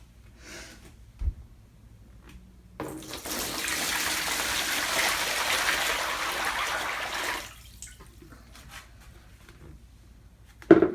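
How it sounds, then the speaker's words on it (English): Regular tap water runs into a container being filled for making recycled paper from book pages, a steady broad rushing pour lasting several seconds between quieter moments, with small handling knocks before and after. "fill your container up with just regular water"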